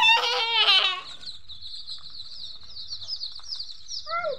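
Young chicks in a cardboard carton on a new poultry farm, a burst of flapping and scrabbling followed by sustained high, thin peeping that carries on steadily, close and fairly loud.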